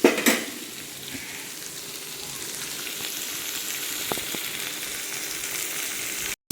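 Potato bajji masala fries in a pan with a steady, moderately loud sizzle, starting with a clatter of a utensil and followed by a couple of light taps.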